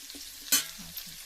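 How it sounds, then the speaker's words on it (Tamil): Onions sautéing in oil for chicken biryani, a soft close sizzle with one sharp burst of frying as the pieces are stirred, then quieter crackling in a brief moment. "வெங்காயம் கொஞ்சம் வதங்கினதுக்கு அப்புறமா பச்சை மிளகாய் சேர்த்துக்கலாம்."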